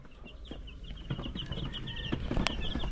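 Chicks peep and hens cluck softly in a chicken coop, scattered high chirps over a low, quiet background that grows slightly busier toward the end.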